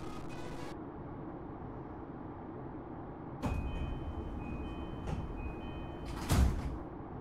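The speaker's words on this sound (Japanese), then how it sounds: "ドアが閉まります。" Doors of a JR E233-5000 series commuter train closing in the BVE5 train simulator on the Keiyo Line rapid service, a quiet interior hum followed by a couple of soft thuds and a sliding clunk.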